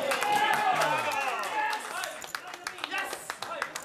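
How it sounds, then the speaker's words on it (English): Applause breaks out across poker tournament tables, a brisk burst of clapping that fades into scattered claps and taps, with a commentator talking over it. "I think that's applause for action on one of the outer tables."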